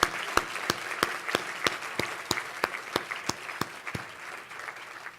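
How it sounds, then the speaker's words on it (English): Sparse applause at a symposium on environment and energy, a handful of distinct claps at a steady rhythm lasting about four seconds and fairly quiet in a large room. "So let's please give them all a great big round of applause."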